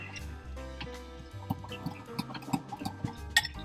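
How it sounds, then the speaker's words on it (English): Buttermilk herb dressing with sour cream being whisked in a bowl for a wedge salad, giving a run of quick wet clicks and squishy liquid taps, close and moderately loud, over a low steady hum. "Now I just need to whisk it all up."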